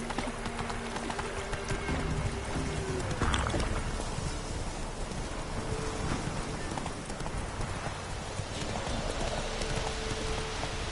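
Fast, continuous clip-clop of Roach, a horse in The Witcher 3 video game, galloping steadily and close, with a rain-like hiss and game ambience underneath.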